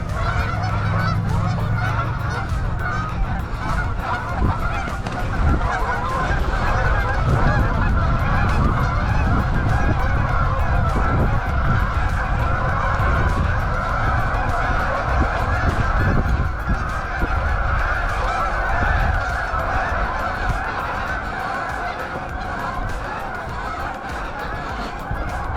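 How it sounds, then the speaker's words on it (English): A large flock of geese honks loudly and continuously at close range, dense overlapping calls filling the whole stretch outdoors during a run, with no talk over them. "the army of geese is here."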